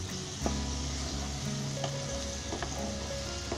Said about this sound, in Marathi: आता थोडं चरचरत आहे ना